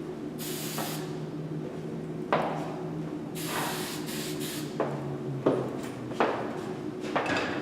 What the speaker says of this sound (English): I'm going to go ahead and spray that down.